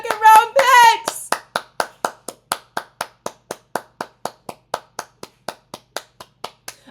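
Hands clap in a steady, even rhythm, roughly twenty crisp claps spaced about a third of a second apart, following a brief excited vocal whoop at the start.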